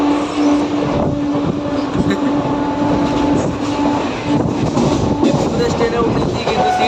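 Inside a crowded Kolkata train while riding, a loud continuous rumble and rattle of the wheels carries on, with a steady tonal hum and irregular clanks throughout.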